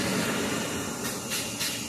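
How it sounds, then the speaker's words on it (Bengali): A steady broadband rumble and hiss of a train drawing in at Goghat station, with faint squealing bursts toward the end, no voices. "দেখতে পাচ্ছেন ট্রেনটি চলে এলো।"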